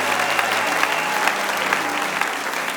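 A congregation at a church conference applauds, a dense steady clapping that holds loud and even throughout, with no voices over it.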